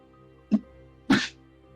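A quiet sniff-like catch of breath, then a single sharp sneeze, close by, over a faint steady hum.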